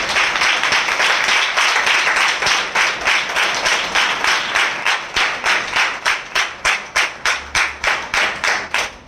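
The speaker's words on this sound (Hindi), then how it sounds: "जोरदार तालियों से उनका स्वागत करें।" A church congregation at a spiritual passion assembly gives loud applause, a dense wash of many hands that gradually thins into distinct rhythmic clapping by the end.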